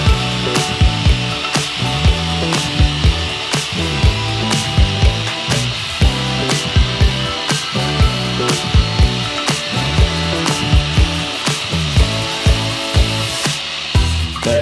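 Machine polisher compounding the paint on a Mustang Cobra bumper, heard up close as a continuous loud whirring drone with rhythmic pulsing as the pad sweeps back and forth.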